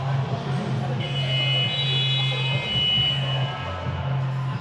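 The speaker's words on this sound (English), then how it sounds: "We have the buzzer sounding, referees motioning all players back to their benches." A basketball game buzzer sounds at a championship game between the Raptors and Gladiators, a steady electronic tone held across several seconds under arena crowd noise and a commentator's voice.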